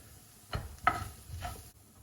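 A spoon scrapes and stirs a four-spice blend and cumin through shakshuka in a pan, three soft passes with a faint sizzle beneath.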